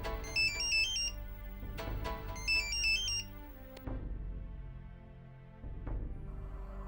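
A mobile phone ringtone plays a repeating melodic chime pattern twice at moderate volume, then gives way to faint dull knocks and a quiet background.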